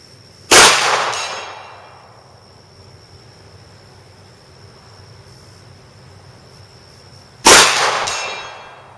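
A Springfield XDM .45 ACP pistol fired at a 100-yard range, two sharp, loud shots several seconds apart, each ringing out with a long fading echo over quiet outdoor background.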